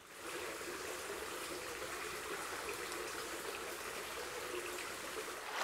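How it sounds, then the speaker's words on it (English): Water trickles steadily in a small stream within a nature reserve near Hallatrow, Somerset, a continuous close bubbling wash with no voices, holding even throughout. "I hope you can hear me above the trickling water beneath my feet."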